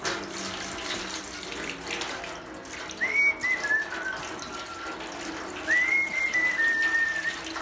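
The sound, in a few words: water being dumped into a pond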